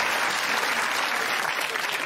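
Studio audience at a comedy quiz show breaks into brief, dense applause, a wash of many hands clapping at full strength for about two seconds.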